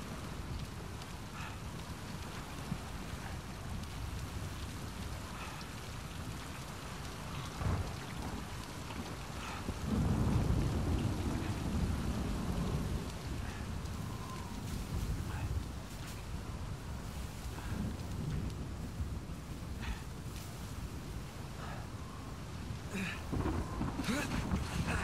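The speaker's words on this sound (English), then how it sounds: "It is beautiful though, it's raining and nice." Steady rain with low rumbling thunder in a rainy outdoor scene of the Uncharted 4 video game, a continuous wash of falling water that swells louder around the middle, with faint talk underneath.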